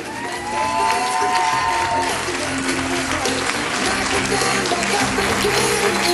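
Loud, lively applause and cheering at a hilltop wedding reception greet the bridesmaid and usher as a crowd claps together, with shouts mixed in over the clapping.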